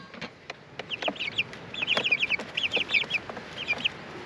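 Small baby chicks in a pet carrier cheep in quick, high repeated peeps, a lively overlapping chorus close by with soft rustling and bumps.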